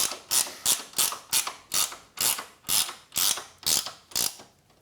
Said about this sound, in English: We'll tighten up the top, Martin, and then let's move to the back